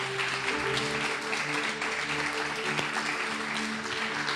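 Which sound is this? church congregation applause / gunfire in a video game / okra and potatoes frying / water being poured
church congregation applause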